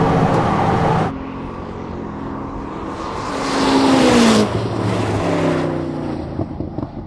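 A Ferrari SF90 XX and a Koenigsegg Regera accelerate hard in a drag race, loud engines climbing in pitch through gears as they pull away, then fading with a lingering roar and wind.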